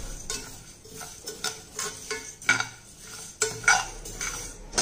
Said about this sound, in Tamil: இப்போ வந்து நம்ம உளுந்தை போடுறோம். இதை வந்து நல்லா வறுத்துக்கணும்